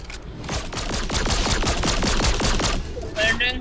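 Rapid gunfire in a Fortnite-style video game battle, a steady run of loud repeated shots over several seconds, with voices chattering intermittently in the background.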